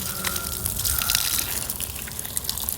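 Water is poured and splashes as feet are washed at the entrance of a Tamil Hindu amman temple, a close, loud gushing splash with spattering drips over a few seconds, without talk.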